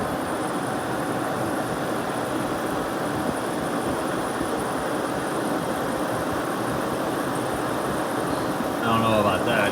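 Late-1960s Sears Coldspot 6,000 BTU small-chassis window air conditioner running, a steady broadband whoosh of blowing air with a low motor hum underneath, constant and unchanging.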